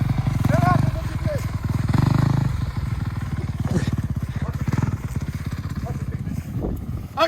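A motorcycle being ridden on a rough, technical stretch, its engine pulsing and revving unevenly up close, with a voice briefly heard over it.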